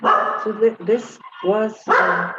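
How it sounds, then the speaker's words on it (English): A pet dog barks in several short bursts inside a home during an online group meeting, loud and close, mixed with a person talking over it. "That is my dog. Don't pay attention to him."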